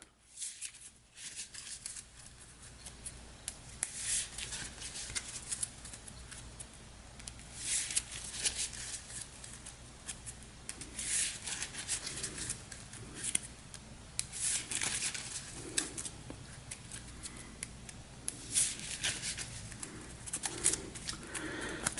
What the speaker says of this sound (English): So I've got the tarot deck right here in shot. We'll give this a quick shuffle.